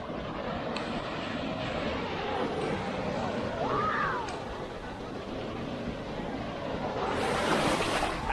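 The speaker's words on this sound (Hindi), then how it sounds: "ये आई लहर" Sea waves wash onto a beach on India's east coast, a steady broad surf roar with a swell of breaking water near the end, continuous and fairly close.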